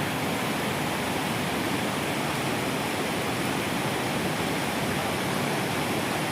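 Flood water rushing near Wawa Dam, a loud, constant broadband roar that stays steady without a break.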